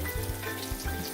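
Tuna cakes fry in a pan with a steady, soft sizzle and a low rhythmic bubbling pulse that runs through the whole moment, with no voices.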